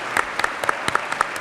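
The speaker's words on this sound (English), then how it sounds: "You really deserve another round of applause" An audience at a university national security lecture claps for General Petraeus, a short, moderately loud patter of distinct claps at a quick, slightly uneven rhythm.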